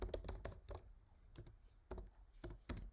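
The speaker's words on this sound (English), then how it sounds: "So I'm just gonna type that in, Chrome extensions" Quiet, close-up typing on a computer keyboard, with irregular bursts of key clicks and brief pauses between short runs of keystrokes.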